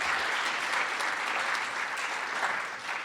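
A room full of listeners claps for the poets at a Poetry Out Loud event, a sustained, fairly soft and even patter of many hands that continues for a few seconds.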